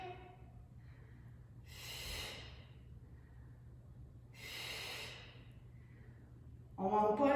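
Two long breathy exhales during a Pilates workout, each about a second, soft and close, with a steady low hum underneath and a brief louder noise at the end.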